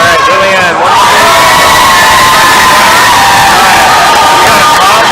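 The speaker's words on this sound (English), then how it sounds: "Crowd's happy that's her first top" A loud crowd roars and cheers with whoops and shouts at a provincial top rope climbing finals as a climber tops her route, the cheering sustained and dense from start to finish.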